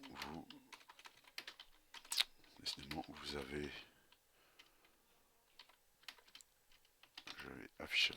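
Computer keyboard typing while programming, quick irregular clusters of key clicks coming in short bursts, with a voice talking between and over some of them.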